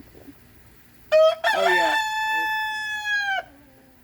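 An American Buckeye-type dual-purpose breed rooster, larger than a Rhode Island Red, crows once loudly and close up in a single long, drawn-out call, and a person speaks briefly just before it.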